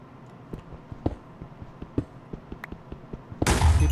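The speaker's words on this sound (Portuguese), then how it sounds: "Eu só tô escutando as explosões, assim." Creeper explosions deep in a Minecraft cave, a run of sharp popping blasts at irregular intervals, ending in one loud, close, sustained roar of noise.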